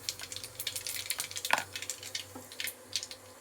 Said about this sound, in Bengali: তেল আমার গরম হয়ে গেছে। এবার দিচ্ছি কালো জিরে ফোড়ন